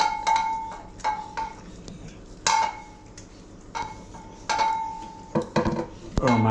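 A dog eating noisily from a bowl with a spoon: repeated clinks and scrapes of metal against dish come in irregular bursts, close and fairly loud, with brief pauses between them.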